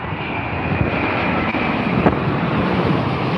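Virgin Atlantic Dreamliner airliner arriving at London Heathrow, a loud steady jet engine roar with wind buffeting the microphone, no talk heard.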